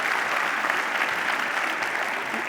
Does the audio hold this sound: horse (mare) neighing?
no